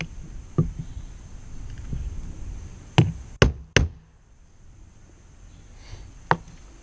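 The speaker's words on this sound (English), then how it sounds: "you hold it down and peen it over" A peening tool is hammered against a rivet set on a wooden block during a V8 boat head gasket job, making several sharp knocks: scattered light taps, then three loud close strikes in quick succession and one more later.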